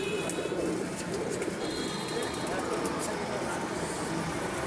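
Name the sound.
pet pigeons cooing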